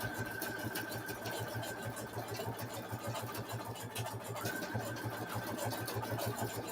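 A sewing machine zigzag-stitching coiled rope into a bowl, running as a steady, rapid, evenly pulsing mechanical hum throughout, close and continuous, with no talking.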